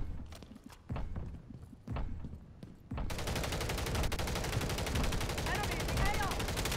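Gunfire in Call of Duty MW3 Ground War, scattered shots at first and then a dense, continuous rattle of automatic fire, fairly faint and steady, with a voice talking over it.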